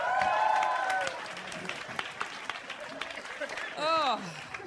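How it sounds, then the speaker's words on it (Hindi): Audience applause at a live comedy roast show, a crowd clapping burst at the start that fades under someone talking, with more talk and laughter following. "एक बार जोरदार तालियां मारें यार."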